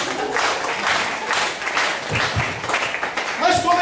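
A crowd at a church carnival camp gathering breaks into steady applause, moderately loud and close, with a voice speaking over the clapping near the end.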